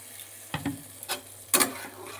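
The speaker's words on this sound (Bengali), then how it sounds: "এবার জল দিয়ে দিচ্ছি।" Water poured into a pan of okra being fried in spices, a few quick splashing bursts followed by a short gush, close and clear over a quiet background.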